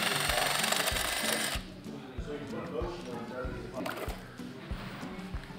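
A power tool, pulled by the trigger, removes engine bolts in a school vehicle maintenance shop. A loud, steady mechanical whir runs for over a second, then gives way to a voice talking over shop noise.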